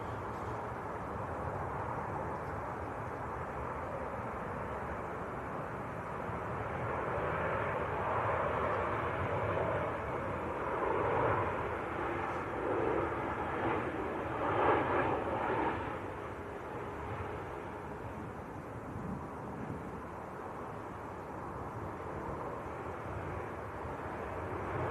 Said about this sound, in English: Ryanair from Berlin, next to land.